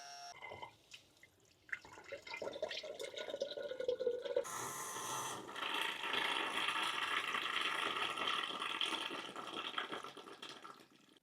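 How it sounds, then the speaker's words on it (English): A battery pump draining water from a household radiator system runs with a steady watery rush and gurgle after a few quieter drips and clicks at the start, close and fairly soft. "we'll just switch them on and watch all the water get pumped straight outside"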